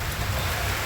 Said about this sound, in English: A little rain on the tin roof here.